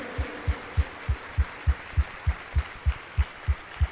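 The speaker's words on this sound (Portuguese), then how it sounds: "Uma salva de palmas para Jesus" A congregation at an evening Sunday Mass in church claps for Jesus. The clapping is soft and diffuse over a steady low rhythmic thump, like synchronized claps or a beat, about three per second.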